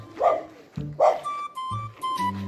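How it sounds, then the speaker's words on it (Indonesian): Several dogs barking at close range, sharp repeated bow-wow barks in bursts with short yips mixed in, loud and near, a voice briefly between them. "ini anjing semuanya pada gonggongin saya semua"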